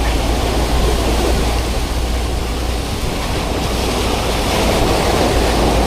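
Steady, loud roar of Pacific Ocean surf, a constant wash of breaking waves mixed with wind rumble, with no pauses.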